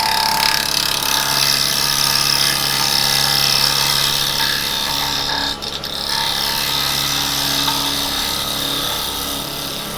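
Wood spinning on a lathe as a turning tool rides its bevel through the cut, a continuous close, loud hissing shear with a steady motor hum beneath, briefly dipping midway before resuming.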